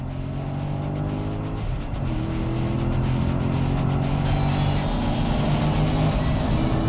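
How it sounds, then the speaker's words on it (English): A Chevrolet Corvette C6 Z06 race car engine roars steadily at high revs, loud and continuous from inside the car, with a slight rise in pitch toward the end. "Listen to that engine, huh? You don't need a radio."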